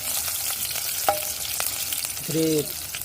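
Green chilies fry in a pan with a continuous soft sizzle and crackle, broken by a few sharp pops and brief utensil scrapes against the metal, heard up close with no voices.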